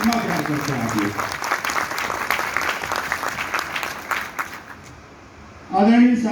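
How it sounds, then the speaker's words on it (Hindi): A hall audience claps steadily at an oath-taking ceremony for newly elected branch officials in Jhansi, a fairly loud sustained patter that fades out near the end before a voice begins speaking. "एक बार जोरदार तालियां बजाकर बताइए उनको कितना प्यार करते हैं आप लोग"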